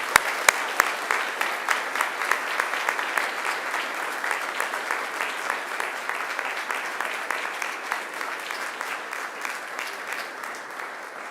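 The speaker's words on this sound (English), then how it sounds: "now it's time to give them a mighty round of applause" A graduation audience gives a sustained round of clapping, dense and even from start to finish, filling a large hall with bright, continuous applause.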